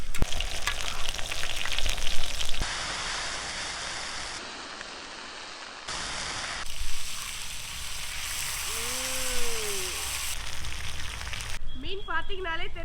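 Pomfret fish frying in a pan over medium heat, a continuous close sizzle like rain that shifts in level across several cuts, with a voice speaking briefly near the end.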